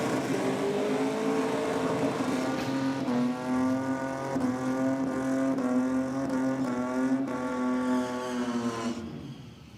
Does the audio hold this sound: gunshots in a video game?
no